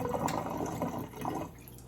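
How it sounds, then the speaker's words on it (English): Water from a Kangen K8 water machine running into a green chamber, a steady close trickle and splash of filling liquid with faint dripping, no voices. "So run your K8 and just fill this green chamber up"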